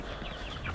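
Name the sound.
chickens clucking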